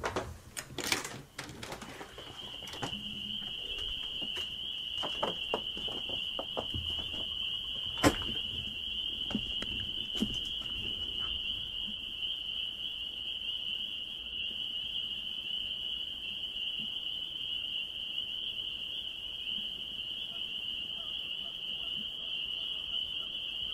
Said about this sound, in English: Some honkers, crickets, frogs, you name it.